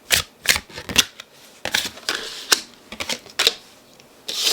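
Tarot cards are shuffled close up in quick, crisp riffling bursts with brief pauses between them, and nobody speaks.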